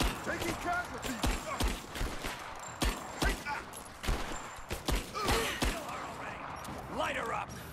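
Gunfire in Rise of the Tomb Raider, sharp individual shots and short bursts cracking at irregular intervals, fairly close, with voices shouting between and over the shots.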